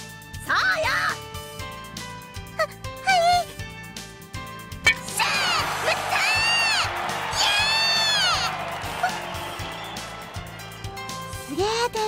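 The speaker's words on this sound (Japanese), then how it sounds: "すごい声援だな。" A large baseball stadium crowd in a video game roars and cheers loudly, with whoops and shouting rising over steady background noise and bursts of nearby voices.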